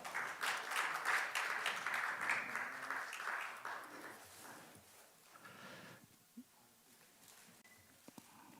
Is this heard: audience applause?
yes